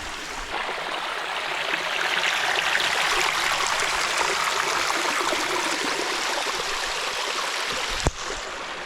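A creek in the rainy Australian bush flows steadily with a close, continuous rushing and burbling of water, broken near the end by a single brief knock, with no talk.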